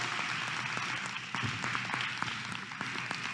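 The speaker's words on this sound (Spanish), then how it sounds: "un fuerte aplauso." An audience at a scientific research panel in Mexico claps for the panel colleagues, a steady round of applause with distinct sharp hand claps standing out near the front, continuing evenly throughout.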